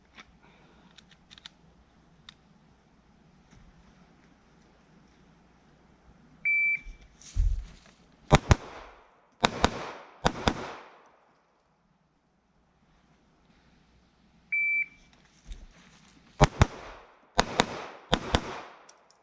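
Pistol shots fired during close-quarters battle training in a riverbed, in two quick strings of about six sharp, loud cracks each, separated by a quiet pause, with a short electronic beep before each string.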